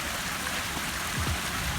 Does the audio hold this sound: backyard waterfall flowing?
yes